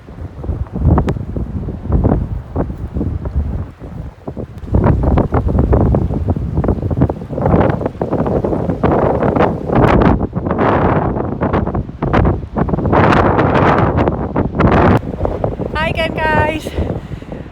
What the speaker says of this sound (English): It's very windy, but it is lovely to get a bit of fresh sea air.